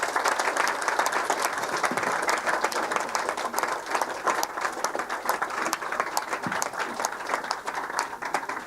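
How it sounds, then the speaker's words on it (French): Sustained applause from a dinner crowd at a Paris brasserie, with dense, steady clapping from many hands filling the room at an even level throughout. "je vous demande d'applaudir et de dire votre amitié à vos nominats"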